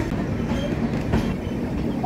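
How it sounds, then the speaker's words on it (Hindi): The Purvanchal Express rolls slowly along the tracks, its carriage rumbling in a dense low roar with faint wheel clatter, heard from inside the train. "हमारी ये ट्रेन धीरे धीरे आगे बढ़ रही है"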